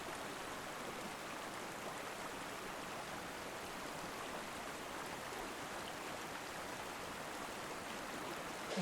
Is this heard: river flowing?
yes